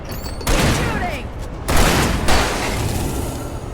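Gunfire in Alan Wake Remastered, a loud sustained burst of shots and booms starting about half a second in, with further blasts near the middle, over a busy game background.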